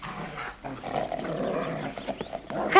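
A dog barks and growls on an attack command in a rough, snarling stretch of bursts, fairly near, growing louder at the end.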